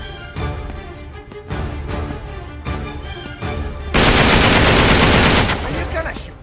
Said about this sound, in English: Are you gonna shoot the lock or am I?